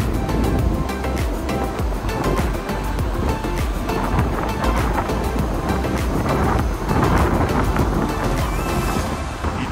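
Strong wind roars and buffets across the deck of a cargo vessel at sea, loud and continuous with gusty microphone rumble and sea noise beneath, no voices.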